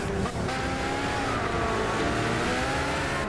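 Race cars roaring along a track in Gran Turismo 6, a steady dense engine drone with rising revs and layered motors from several cars close together, loud and continuous throughout.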